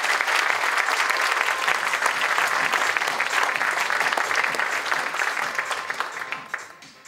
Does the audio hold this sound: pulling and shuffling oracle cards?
no